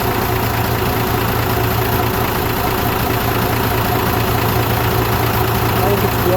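A Detroit diesel marine engine runs steadily at a constant idle, a dense, loud low rumble with no change in pitch, while a voice talks over it.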